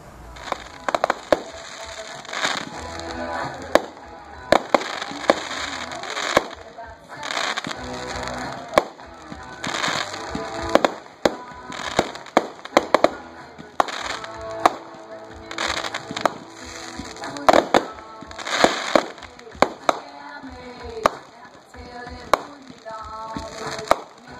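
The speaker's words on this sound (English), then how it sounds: "It was a private party with fireworks," Fireworks at a private party after a wedding, a long run of sharp bangs and crackling bursts at irregular intervals, some loud and close, like a grand finale.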